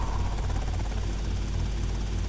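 A helicopter in GTA Vice City drones with a loud, constant rotor roar and dense low rumble, steady throughout with no talking.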